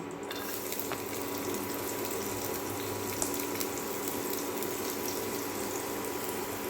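Chopped ginger and garlic hit hot refined oil in a pan, giving a steady, dense sizzle that holds evenly throughout with no pauses and no voices.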